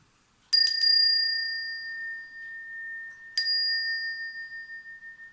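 A bright metallic chime rings out, struck a few times in quick succession, then again after a pause, each ring sustaining and slowly fading.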